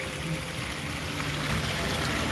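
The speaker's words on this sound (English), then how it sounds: "Here's the little" A small waterfall at the EPCOT China pavilion, a steady broadband rush of falling water heard up close, continuous and even throughout.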